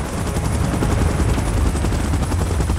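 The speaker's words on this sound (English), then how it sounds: "Chopper in position." A helicopter in the PUBG Mobile game, a loud steady rotor thrum and whine filling the moment, close and continuous with rapid pulsing chop.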